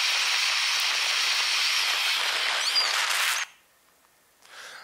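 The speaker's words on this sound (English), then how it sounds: "So this is a little geothermal vent near Krafla volcano, and you get a sense it's steaming away permanently." A geothermal vent near Krafla volcano in Iceland steams continuously with a loud, broad, close hiss that cuts off abruptly, leaving near silence before a faint hiss returns.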